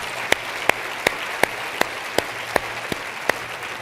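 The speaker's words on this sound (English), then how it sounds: "Give them a round of applause." An audience applauds honorees at an awards ceremony, with a dense, even clapping that carries loud and continuous throughout, punctuated by a few sharper, regularly spaced claps close by.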